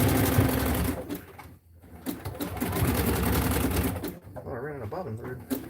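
A sewing machine runs fast and steady, stitching elastic into tights, with a brief slowdown partway through, close and loud as someone talks over it.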